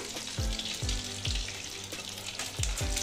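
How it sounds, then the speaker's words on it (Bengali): An egg fries yolk side down in hot oil, giving a steady close sizzle broken by a few regular soft thumps or scrapes from a utensil, with no voices. "ডিমটা ওই পিঠটা কুসুমের দিকটা করে আমি ভেজে নিচ্ছি"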